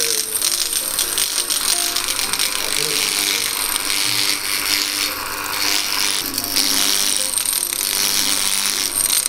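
A power carving tool grinds away juniper bonsai deadwood, giving a continuous harsh, rattling buzz that shifts in pitch as the bit bites into the wood, loud and close throughout.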